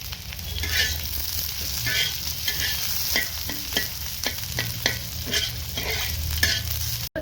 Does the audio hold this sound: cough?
no